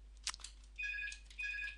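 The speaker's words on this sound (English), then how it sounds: "and there goes the phone" A telephone rings in an indoor room, two electronic trilling bursts in a row, faint behind a few small clicks.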